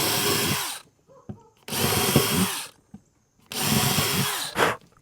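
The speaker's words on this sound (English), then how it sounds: "get your pre-drill, and we're going to do 2 holes right there" A power drill bores pilot holes into a wooden Thanksgiving pilgrim nutcracker, three loud bursts of whirring, each about a second long, separated by quiet pauses with small clicks.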